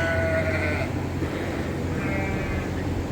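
Lambs bleat in a barn at chore time, a few drawn-out wavering cries at the start and again near the end, set over a steady low hum and farmyard murmur.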